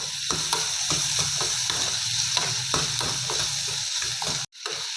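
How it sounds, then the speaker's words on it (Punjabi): Onion and tomato fry lightly in a pan, a steady close sizzle broken by regular stirring scrapes, with a brief drop to near silence just before the end. "ਪਿਆਜ਼ ਟਮਾਟਰ ਨੂੰ ਆਪਾਂ ਹਲਕਾ ਜਿਹਾ ਭੁੰਨ ਲਿਆਗਾ"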